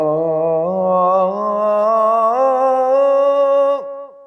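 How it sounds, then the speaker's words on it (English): A single melodic instrument plays the Maqam Nahawand scale as a smooth, gliding line of rising notes, loud and close, ending with a quick downward slide and a short decay into silence. "So the whole scale of Maqam Nahawand would sound like this."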